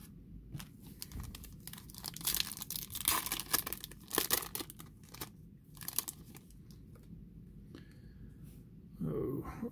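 Foil wrappers on 2021 Bowman Chrome baseball card packs tear open and crinkle up close, in repeated bursts of ripping and crackling with short pauses between packs.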